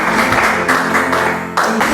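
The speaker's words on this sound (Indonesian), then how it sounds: "Tepuk tangan yang meriah buat Tuhan Yesus." A church congregation applauding during a Good Friday service, sustained loud clapping that runs continuously with a brief dip before swelling again near the end.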